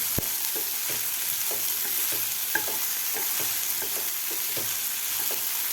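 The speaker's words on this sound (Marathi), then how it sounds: "भेंडी आपल्याला व्यवस्थित खालच्या मसाल्यामध्ये व्यवस्थित मिक्स करून घ्यायची आहे" Okra fry being stirred into masala in a pan, with steady broadband sizzling and a regular series of soft scraping stir strokes, close and continuous throughout.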